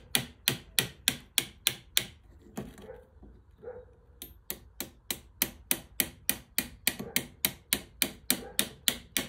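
Rapid, even hammer taps on a metal part while fitting a spring into a Badeco Swiss duplex spring hammer handpiece, about three strikes a second, close and crisp, pausing briefly midway before resuming, no talk.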